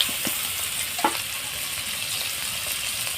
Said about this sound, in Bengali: এর মধ্যে আমি পেঁয়াজ কুচি দিয়ে দিলাম